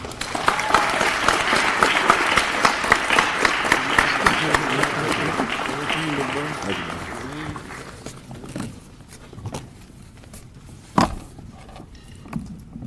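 Sustained audience applause fills a Founders Day assembly hall as a keynote speaker is welcomed to the podium, loud and dense for several seconds before thinning into scattered claps, shuffling and footsteps.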